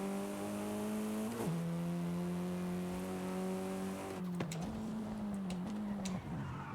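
A car in the racing game Forza Horizon 5 speeds along with a steady, droning engine note that shifts pitch at gear changes, followed by a burst of tire squeal and skidding near the end.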